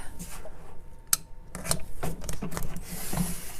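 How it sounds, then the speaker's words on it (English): Vinyl wrap being cut at a 45-degree angle on a mini fridge, giving soft scraping and rubbing strokes with a few sharp ticks, close and fairly quiet, with no talking. "Right here, I'm doing a 45-degree angle cut"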